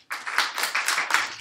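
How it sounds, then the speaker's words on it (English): Lecture audience clapping their hands in a hall, a short burst of brisk, overlapping claps that starts abruptly and keeps a lively, uneven rhythm for over a second, with no talking. "Please clap your hand."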